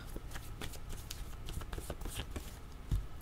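Tarot cards are shuffled before one is drawn, giving close, fast papery riffles and clicks with a louder thump near the end. No one speaks.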